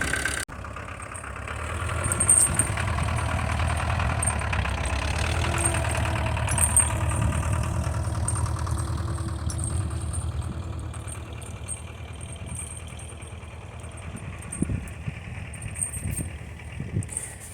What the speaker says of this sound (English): These old diesels take quite a while to get warmed up